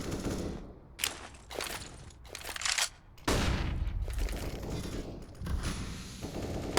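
Bursts of gunfire crack through a competitive video game match, rapid volleys and single shots coming in clusters, loud and close, separated by short gaps.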